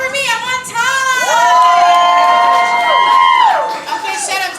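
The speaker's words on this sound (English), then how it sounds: "cheer for me" Audience at a poetry slam cheering and whooping, a crowd of voices rising into loud, sustained shouts and cheers close by, fading toward the end.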